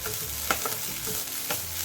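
Coconut, onion and curry leaves fry in hot oil with a steady close sizzle, while a spoon scrapes and stirs the pan in a few distinct strokes.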